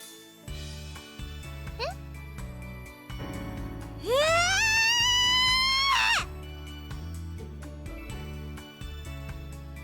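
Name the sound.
girl's scream in a visual novel video game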